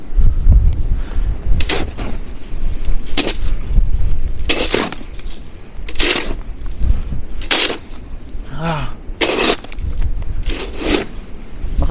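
Strong winter wind in a cold small South Dakota town at -19°C buffets the microphone in loud, rumbling gusts, with sharp bursts of blustery noise recurring every second or two.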